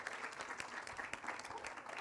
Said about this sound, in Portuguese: A plateia aplaude calorosamente.